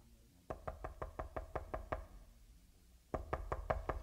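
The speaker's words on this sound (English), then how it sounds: "when there was a knock at my door" Knuckles rap on a door at night in a row of about ten steady knocks, a pause, then another burst of five, faint and close with no voices.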